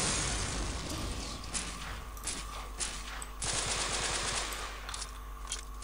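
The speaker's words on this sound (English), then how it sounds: "I can see he is shooting." Gunfire in the Delta Force video game on a fog-covered map: rapid automatic bursts and scattered single shots crack out repeatedly over a dense, continuous battle din.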